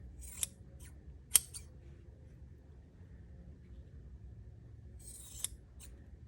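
Freshly sharpened Gingher sewing scissors make a few crisp snips, with a quick pair near the start and another just past five seconds, each clean and close against a quiet background.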